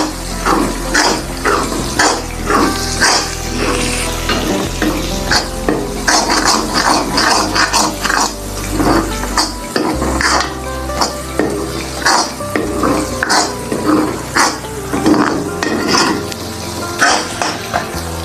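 Turmeric, garam masala, dried coriander and red chili fry in a pan for dal chicken kofta, with loud constant sizzling and repeated clattering stirs of a spoon against the metal pan.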